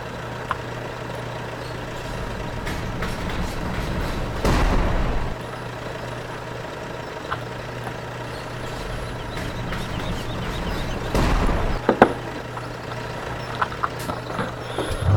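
A farm tractor engine runs steadily throughout, a low continuous rumble with two louder bursts of air-like hiss and scattered small clicks and knocks nearby, no talk.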